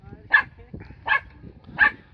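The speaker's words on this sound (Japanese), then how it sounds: "ああ、また吠え出した。" A dog barks three times at an even pace, each bark sharp and moderately close, with quiet gaps between them.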